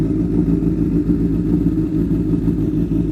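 A 2014 Honda CBR 1000 motorcycle engine runs at a steady, close idle right after starting, with a dense low rumble and a faint mechanical clatter and no talking.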